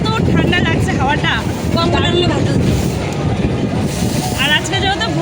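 Cold wind blows beside a river on a damp day out in the countryside, buffeting the microphone with a loud, continuous rumble. People talk over it throughout.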